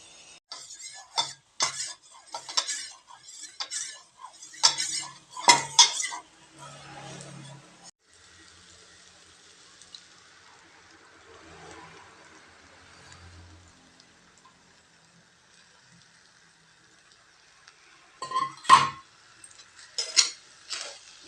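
Three eggs are beaten with a utensil in a bowl for a semiya dish, giving quick bursts of clinking and tapping strokes. The strokes come in bursts with a long quiet stretch in between, close and fairly faint.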